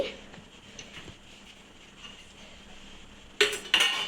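Ceramic plate clinks sharply twice as it is set down on a kitchen counter while an omelette cooks, following a stretch of faint low room noise.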